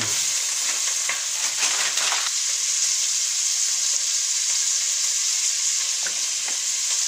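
Shrimp fry in a pan of lightly browned butter with a steady, close sizzle and scattered crackles and spatters throughout, no voices.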